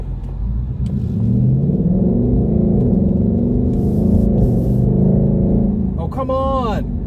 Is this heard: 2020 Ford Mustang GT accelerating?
yes